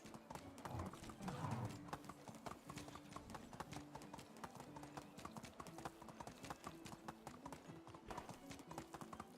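Horse hooves clip-clop steadily in the medieval survival game Medieval Dynasty while riding toward a village, a continuous rhythmic trot close up with a brief whinny-like sound near the start.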